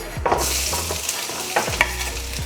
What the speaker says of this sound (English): Slide the onions in.